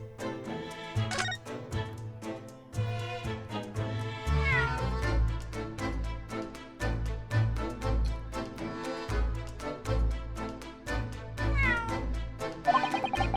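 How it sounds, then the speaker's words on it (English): A cat in The Great Ace Attorney Chronicles video game gives a long run of close, clear meows and drawn-out yowls, one after another with short gaps, over soft game music. "That was a cheeky little meow, Wagahai."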